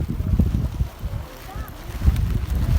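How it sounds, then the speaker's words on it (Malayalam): Strong wind buffets and roars across the microphone in low, steady gusts on a hilltop at Himavad Gopalaswamy Betta hills in Karnataka, with faint voices underneath. "നല്ല പൊളി വൈബാണ് പൊളി കാറ്റ്"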